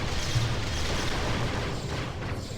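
Plasma torpedo explosion from a Dark Timeline Bird of Prey in a Star Trek starship battle video game, a sustained loud rumbling boom that holds steady and tapers slightly at the end.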